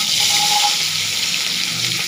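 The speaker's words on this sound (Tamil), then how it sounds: "மிளகாய் போட்டுடலாம்." Chillies frying in sesame oil in a pan, a steady loud hiss and sizzle that stays continuous and close throughout.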